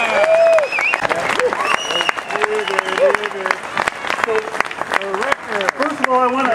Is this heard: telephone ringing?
no